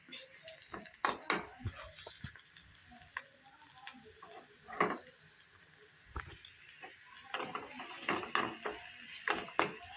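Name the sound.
stirring egg and peas fry in a pan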